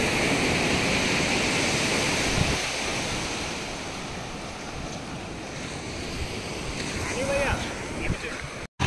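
Sea waves breaking on a Goa beach, a continuous loud wash of surf mixed with wind buffeting the microphone, with a faint voice briefly rising near the end.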